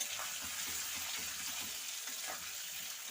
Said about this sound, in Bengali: এখানে আলুটা কিন্তু ভাজা হয়ে গেছে।